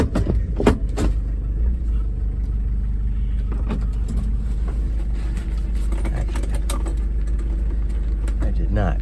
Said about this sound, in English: So let's go ahead and take it for a drive.